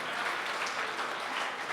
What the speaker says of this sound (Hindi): तालियां बहुत कमजोर है आपकी